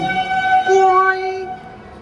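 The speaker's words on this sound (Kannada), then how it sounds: "Oh my God, train is coming." A train arriving at a station platform blares its horn in a close, loud, sustained chord-like blast that slides briefly, then fades out.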